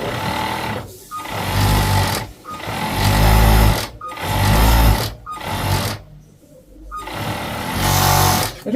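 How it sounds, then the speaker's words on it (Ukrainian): An overlock sewing machine stitches elastic onto a dress, running in bursts of loud, rapid mechanical whirring separated by short pauses, close and with no talk. "І відразу на оверлоці ось тримаю в розтягнутому вигляді і пришиваю."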